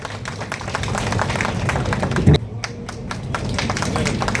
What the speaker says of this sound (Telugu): కాబట్టి దయచేసి అందరూ కూడా చప్పట్లు కొట్టాల్సిందిగా కోరుతా ఉన్నాం.